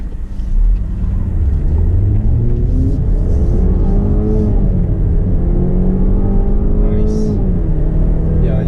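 A Range Rover Velar SUV with a 2-litre engine accelerating, heard from inside as a steady loud engine drone with rising and falling harmonic sweeps as it pulls through the gears.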